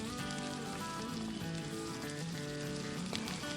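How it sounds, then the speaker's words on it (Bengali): Coated chicken 65 pieces, made without egg, fry in oil over a low-to-medium flame, giving a continuous soft sizzle and crackle over a steady tonal background layer, with no talking. "গ্যাসের ফ্লেমটাকে লো টু মিডিয়ামে রেখে চিকেনের টুকরোগুলোকে খুব ভালো করে ফ্রাই করে নিতে হবে।"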